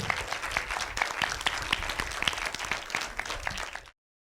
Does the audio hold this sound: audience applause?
yes